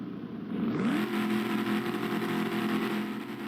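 Race car engines revving together at the start of a Grand Prix at Silverstone in the Roblox ER:LC racing game, a sustained droning roar that swells after a moment and holds steady, with a rising pitch sweep near the beginning.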